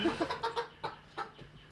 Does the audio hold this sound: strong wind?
no